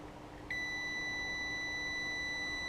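A homemade metal detector pinpointer gives a single steady electronic beep that switches on abruptly and holds as one unbroken, clean tone over faint background noise, with no one speaking.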